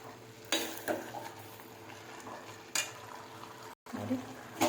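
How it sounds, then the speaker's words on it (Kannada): Fenugreek leaves and cauliflower fry in masala in a pan, giving a steady sizzle broken by a few loud spoon scrapes and stirring bursts, up close with no talk. "ನೋಡಿ, ಮೆಂತ್ಯ ಸೊಪ್ಪು ಎಷ್ಟು ಚೆನ್ನಾಗಿ ಫ್ರೈ ಆಗ್ತಾಯಿದೆ ನೋಡಿ."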